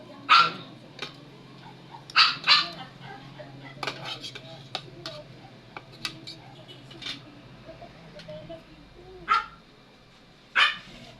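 Dishes and cutlery clatter in sharp, scattered clinks during a meal while a dog barks a few times in the background, with occasional voices nearby.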